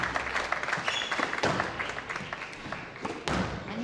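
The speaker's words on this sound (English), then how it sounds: "Please give him a cheer." Audience at a squash league grand final applauds for a player, a dense spread of clapping with a few thuds and taps, moderately loud and continuous throughout.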